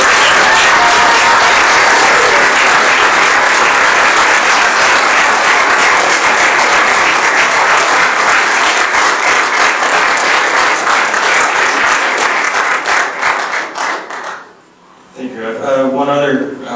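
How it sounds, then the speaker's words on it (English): An audience at The Thornhill Club's annual general meeting claps loudly and steadily for about fourteen seconds. The applause then fades out and a voice speaks briefly. "Can we give Judith a round of applause?"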